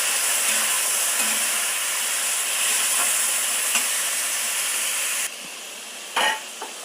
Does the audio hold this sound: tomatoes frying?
yes